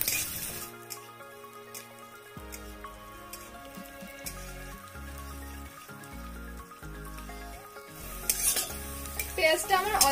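Onions with a pinch of sugar fry in a pan and are stirred now and then, giving a soft, constant sizzle with light scraping under louder background music.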